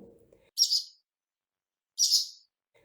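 Two short bursts of high, bright bird chirping, separated by a pause of over a second, with a faint low murmur at the very start.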